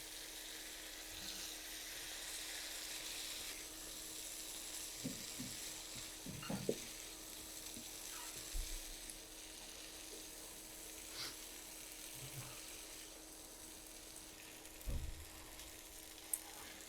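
Cauliflower, green peas and long eggplant sizzle in a hot pan while being fried for a Bengali vegetable curry, a steady low hiss throughout with occasional soft clicks and bumps of stirring.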